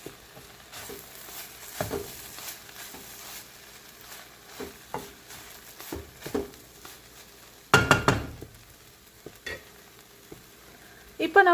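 Fish puttu being stirred in a pan gives scattered scrapes and clinks of a utensil against metal over a faint sizzle, with a louder burst of scraping near the end.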